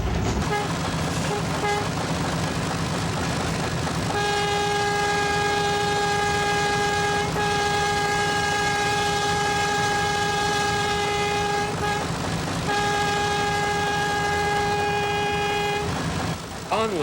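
A BR&W Railroad train horn blows long, steady tones several times in a row, loud and close, with brief gaps between the blasts over rumbling background noise.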